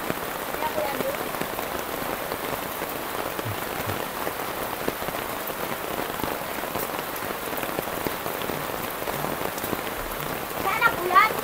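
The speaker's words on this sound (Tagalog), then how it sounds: "Malakas ang ulan." Heavy rain pours steadily onto a roof, a continuous dense patter of drops at moderate level throughout, with faint voices talking underneath.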